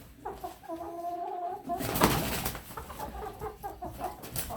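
Two roosters cramped together in a small coop cluck and crow in repeated, overlapping calls, close and fairly loud, with a brief louder burst midway and steady bird chatter throughout.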